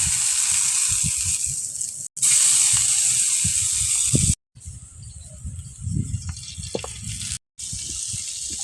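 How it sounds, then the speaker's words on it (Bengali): Shrimp shells fry in a hot pan, giving a loud, steady hissing sizzle with scattered crackles, broken by a few brief cuts. "চিংড়ি মাছের খোসাগুলো ভাজে নেব।"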